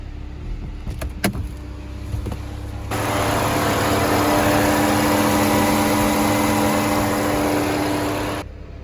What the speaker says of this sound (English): and the fans are running full tilt.